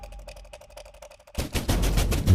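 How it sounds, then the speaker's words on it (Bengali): Heavy pounding on a door in a Bengali cartoon, a loud, dense burst of banging that cuts in abruptly after a stretch of light, rhythmic tones and continues to the end. "এমন সময় হঠাৎ দরজা ধাক্কানোর শব্দ।"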